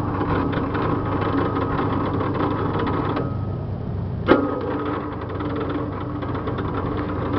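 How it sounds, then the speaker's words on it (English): A motorhome generator engine cranks over on a weak battery, a steady low, labored churning that keeps going without catching, close and loud, with one brief knock partway through. "It's turning over, just does not have enough."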